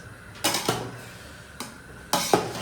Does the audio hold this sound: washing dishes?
yes